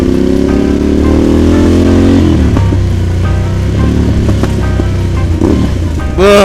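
A Ducati Monster motorcycle engine runs loud and close, rising steadily in pitch over the first couple of seconds, then settling into a rough, throbbing idle with a few sharp blips near the end.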